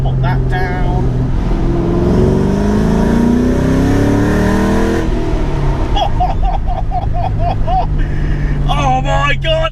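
A Ford Mustang Bullet tribute car revs hard under acceleration, the loud engine note climbing steadily through a gear before dropping, heard from inside the car with people talking over it.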